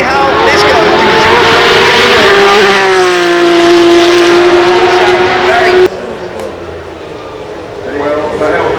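A Porsche 911 runs at the Goodwood Festival of Speed, its engine note holding a steady strong tone and then rising, loud and close. Commentary talk runs over it, and the level drops sharply about two thirds of the way through.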